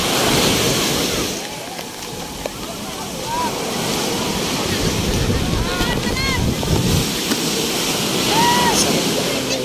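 Ocean surf breaking along the shore at La Union, a steady loud wash of waves with wind buffeting the microphone throughout and faint voices underneath.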